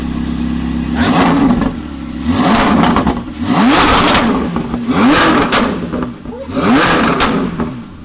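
A Chevrolet C8 Corvette Z06 fitted with equal-length headers revs loudly in repeated sharp bursts, climbing and dropping between throttle blips, close and dominant with no talk over it.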